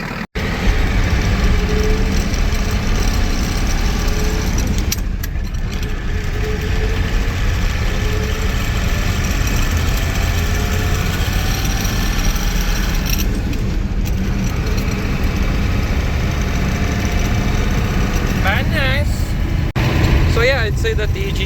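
A Ford 7.3 IDI diesel engine with a turned-up injection pump idles close by, a loud, steady low rumble running throughout with a few brief clanks and rustles over it.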